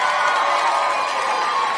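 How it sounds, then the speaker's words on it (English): Women in a comedy club audience cheer and whoop in a steady, loud wash of crowd noise, with no gaps. "The women always cheer"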